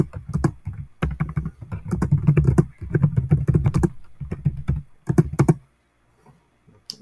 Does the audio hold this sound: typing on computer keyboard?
yes